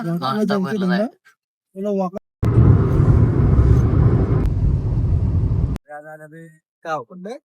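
Interior of a car on a road trip near Panvel and Wakad, its steady low engine and road rumble heard loudly for a few seconds between stretches of people talking.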